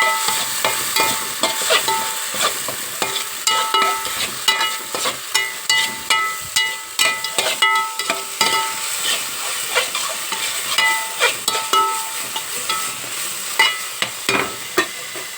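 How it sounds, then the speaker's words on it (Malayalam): Ground tomato stirred into a hot frying pan, giving a continuous sizzle with repeated scraping spoon strokes in a steady rhythm, close and fairly loud, with no voices throughout. "ഇനി നമ്മൾ അരച്ച് വെച്ച തക്കാളി ഒരെണ്ണം ഇതിനകത്തേക്ക് ചേർക്കാം. എന്നിട്ട് ശരിക്കും ഇളക്കാം."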